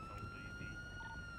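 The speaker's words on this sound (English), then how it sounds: "I don't know whose sirens are on." A police siren from the NoPixel GTA roleplay game holds a steady, continuous wail at moderate level in the background, with no talk over it.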